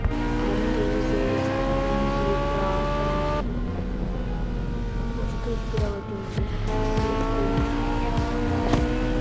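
A car races at speed in the video game Gangstar 4, its high engine whine climbing and shifting pitch with bursts of tire noise, loud and continuous, with a brief drop partway through.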